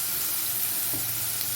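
Hing (asafoetida) sizzling in hot oil while being stirred, a steady close, broadband hiss with no talk, cooked alongside potatoes for a Mumbai-style pav wada dish.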